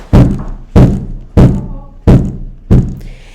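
Five heavy, evenly spaced knocks on a front door, each a loud close thud with a short decay, landing roughly every two-thirds of a second.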